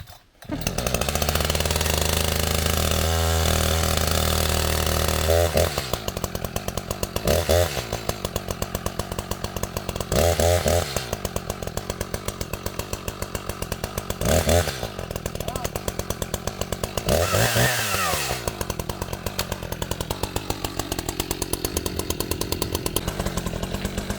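A two-stroke chainsaw runs steadily and loudly while trees are cleared on an off-grid property, its revving engine dipping and rising with cuts, with voices talking over it.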